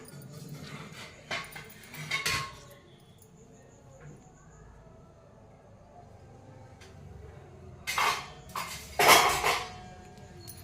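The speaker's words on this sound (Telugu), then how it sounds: "ఇప్పుడు దీన్ని బాగా కలపాలి. ఇట్లా మంచిగా ముక్కలకి ఉప్పు కారం అవన్నీ పట్టుకునేలాగా కలపాలి." Raw banana pieces are mixed with salt and chili in a bowl, producing intermittent close clinks and scrapes in two clusters separated by a quieter stretch.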